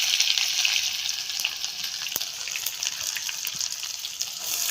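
Garlic and ginger crackle in oil with cumin and mustard seeds in a kadhai over a clay stove, a bright continuous sizzle with faint scattered pops and no talking.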